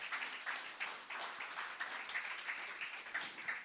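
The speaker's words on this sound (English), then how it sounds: "Give a clap offering." A church congregation claps as an offering of praise, a steady, dense patter of many hands at moderate volume sustained throughout, slightly distant, with no speech over it.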